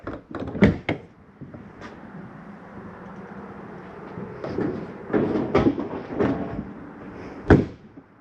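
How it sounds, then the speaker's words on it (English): Doors and drawers shutting inside a 2016 XLR Nitro travel trailer, a series of close knocks and thuds at irregular intervals with shuffling between them and no talking. "Walk through the unit, make sure all doors and drawers are closed."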